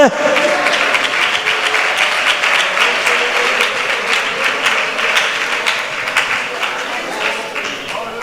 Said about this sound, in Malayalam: കൈയടിച്ച ശക്തിയോടെ ദൈവത്തെ ആരാധിച്ചാട്ടെ.